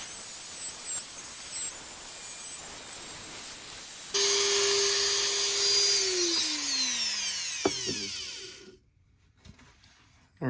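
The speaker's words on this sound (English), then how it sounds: "I've got my Dremel here, and I'm just going to use this guy here to make the marking right here." Dremel rotary tool notching a plastic rearview mirror cover on a Ram truck: a high steady whine starts abruptly, bites in with a harsh grinding hiss, then winds down and cuts off into near silence.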